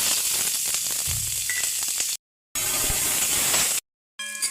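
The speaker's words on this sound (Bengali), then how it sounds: "ওই কড়াইতে পেঁয়াজ, রসুন আর আদা" Onion, garlic and ginger hiss and sizzle in hot oil in a wok while a fish curry is prepared. The frying is close and steady, cut by two abrupt silent gaps.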